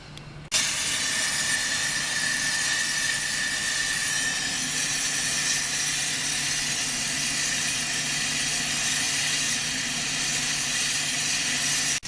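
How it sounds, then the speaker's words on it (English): Steam hisses steadily through a bulk unloading line in the back of a truck, a loud, continuous broadband rush that starts abruptly and holds without pause, with a faint low hum beneath it. "We have our line getting steamed in the back of our truck getting steamed."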